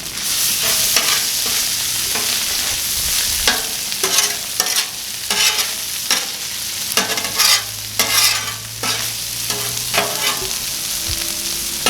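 Cheese steak meat and onions fry on a Blackstone griddle with a continuous loud sizzle, broken by repeated sharp spatula scrapes and stirring clatters close by.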